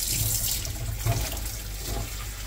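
Water pouring steadily from a tap or watering can onto a houseplant indoors, a soft continuous splashing stream close by with no talking.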